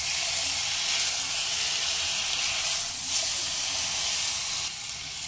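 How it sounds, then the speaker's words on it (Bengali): Chicken pieces frying on a medium flame for a chicken stew, producing a steady, even sizzling hiss that stays constant throughout, close and unbroken. "মিডিয়াম ফ্লেমে চিকেনগুলোকে 4 থেকে 5 মিনিট ভেজে নেব।"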